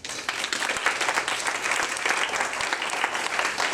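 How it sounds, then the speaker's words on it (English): An audience at a literary reading applauds the narrator in a dense, steady wash of clapping that runs evenly from start to finish at moderate loudness. "Please give me a round of applause for Andrew Eisenman"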